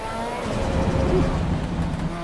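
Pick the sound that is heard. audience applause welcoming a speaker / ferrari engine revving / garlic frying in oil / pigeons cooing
ferrari engine revving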